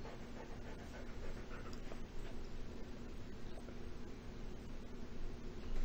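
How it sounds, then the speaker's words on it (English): A dog pants close to the microphone in quick, steady breaths under a faint hiss, continuing throughout. "By chance you guys hear panting, that is my dog."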